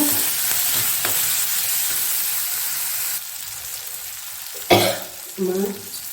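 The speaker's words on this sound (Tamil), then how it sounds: "அப்படியே வதங்கட்டும்" Food for vada curry sizzles steadily in a hot pan with a little turmeric, a constant frying hiss with occasional stirring scrapes and clatters, close by.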